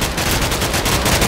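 Rapid gunfire in Minecraft, a fast, even burst of loud repeated shots filling the moment with no pause.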